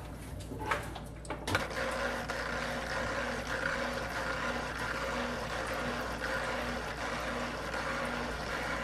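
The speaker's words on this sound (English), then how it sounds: "You can hear it siphoning up." A Penguin Bio Wheel 350 aquarium filter clicks on, then settles into a steady low hum with a continuous trickling, gurgling wash of water.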